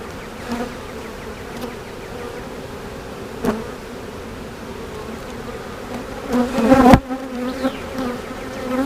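Honeybees buzzing steadily inside an opened beehive, a dense close drone with occasional louder passes near the microphone and a brief rustle near the end.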